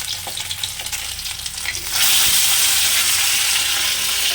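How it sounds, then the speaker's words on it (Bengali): Parshe fish fry lightly in hot oil in a kadai, added one by one; a steady, close hiss of oil that swells into a loud continuous sizzle partway through. "হালকা করে মাছগুলো এক এক করে ভেজে নেব।"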